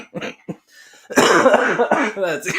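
A person laughs and then breaks into a harsh, close coughing fit lasting about a second and a half.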